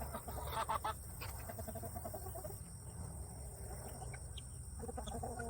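Chickens cluck in a busy farmyard with a rooster present, a dense cluster of short calls near the start and more scattered clucks continuing over steady background noise.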